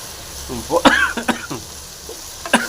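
A spring onion mixture fries in a pan, its soft continuous sizzle sitting beneath a voice talking in short bursts across the whole stretch.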